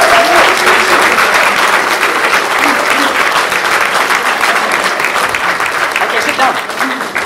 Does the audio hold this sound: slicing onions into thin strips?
no